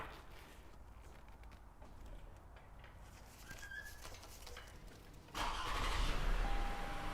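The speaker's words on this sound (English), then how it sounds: "Ready to drop the car and give it a start" A 2017 Lexus RX350 engine cranks and catches after an oil change, a sudden jump to a steady idle hum following quiet ambient sound with faint birds.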